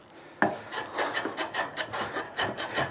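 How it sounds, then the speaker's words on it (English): A hand plane works across the tough end grain of a Blackwood timber board, a rhythmic series of close, dry rasping strokes that follows a sharp initial catch, each stroke pulsing briefly and quietly without any talk. "Now I'm planing end grain here, so it's tough grain, and this Blackwood's tough timber"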